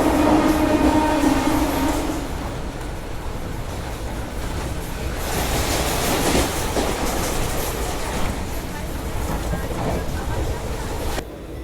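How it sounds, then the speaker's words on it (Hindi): Jaipur–Mumbai Express train passing close by on the Mumbai line near Borivali in the early morning, a loud continuous rumble with clattering wheels and rail noise throughout, briefly joined by a tonal hum near the start, with a voice talking over it. "ये शायद से जयपुर मुंबई एक्सप्रेस होगी मेरे ख्याल से।"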